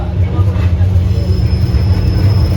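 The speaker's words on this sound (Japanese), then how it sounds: "ハピライン福井の福井駅に設置された小さなホームから九頭竜湖行き普通列車が出発しました。" A JR Etsumi-Hoku Line local train departs a small platform at Fukui station, bound for Kuzuryuko, with a loud, steady low engine rumble and faint rail noise, heard close from on board.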